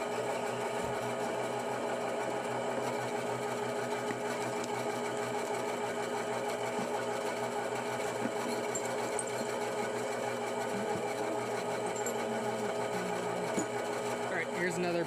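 A Craftsman 10-inch three-wheel bandsaw cuts through aluminum with a steady, continuous whirring drone that holds at an even level for the whole stretch, close up and alone.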